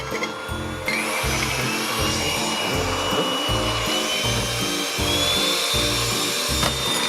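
An electric mixer whisks egg whites with sugar being added, a loud close whirring drone with a regular pulsing beat as the beaters rotate through the bowl, steady throughout with no speech.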